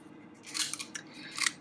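A knife blade slicing through paper while cutting and mounting a portfolio: a few short, crisp scraping strokes, close and fairly quiet, with no talking.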